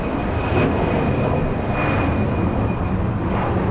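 A T-way airliner at Incheon Airport gives a loud, steady broadband roar of jet engines with a faint high whine running through it, no voices.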